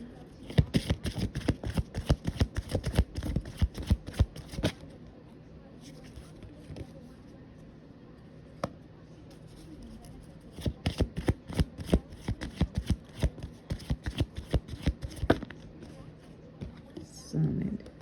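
Tarot cards shuffled in close, rapid riffling bursts, a quiet gap, then a second round of crisp flicking, with soft talk underneath.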